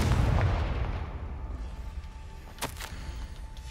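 A fiery Confringo spell blast in Hogwarts Legacy lands as a loud, deep boom that rumbles and fades over a few seconds, then a short sharp crack follows.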